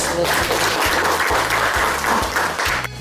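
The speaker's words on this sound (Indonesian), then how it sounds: "Oke, kita beri tepuk tangan." Students in an Indonesian history classroom applaud after a group presentation, a loud, busy patter of clapping over a regularly pulsing low hum that stops abruptly near the end.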